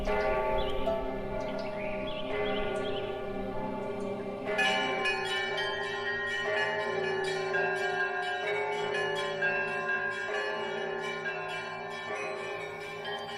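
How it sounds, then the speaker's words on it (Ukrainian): Church bells ring out repeatedly for Easter, layered peals overlapping and sustained, with faint birdsong in the background. "З усіх усюд долинає дзвін, який прославляє Спасителя."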